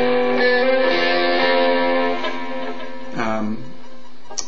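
Electric guitar on a song sounds a B and then a G, with a slightly distorted, sustained tone fading and shifting; a single close part with no other sounds.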